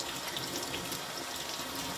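Cold tap water running steadily into a kitchen sink while homemade butter is washed under it, a constant close splashing rush with no breaks.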